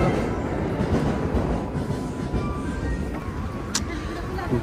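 A train ride rumbles along in a continuous low, heavy roar, with faint rhythmic clacks and squeals over the steady rolling noise.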